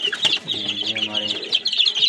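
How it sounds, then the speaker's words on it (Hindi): Sonali breed chicks on a desi poultry farm in Punjab, a busy close chorus of high peeping and soft clucking calls, continuous and overlapping. "सोनाली कैसी मुर्गी के बच्चे, और इधर है जी चकोर"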